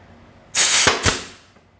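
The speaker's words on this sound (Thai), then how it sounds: "ยิงปืนลมได้เลยนะครับ" A pneumatic nail gun drives F30 nails into wood: two sharp, loud pneumatic bangs in quick succession, each followed by a brief fading hiss.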